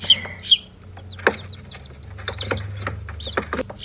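Shrill peeping from a few newly hatched chicks, one batch of three from fifty eggs, comes in scattered bursts and then longer sustained calls nearby over a low background hum.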